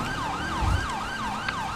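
Police car sirens wail in a video game police operation, a loud, continuous rising-and-falling siren repeating steadily with a faint engine rumble underneath.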